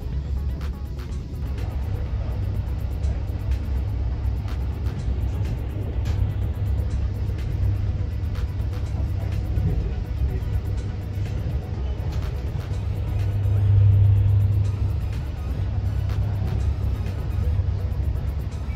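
Steady low diesel rumble from a ScotRail Inter7City HST power car, heard from inside the adjoining carriage, droning continuously with a slight swell in loudness near the end and no talk.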